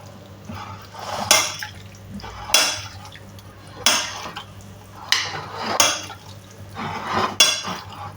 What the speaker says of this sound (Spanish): Mezclamos bien todos los ingredientes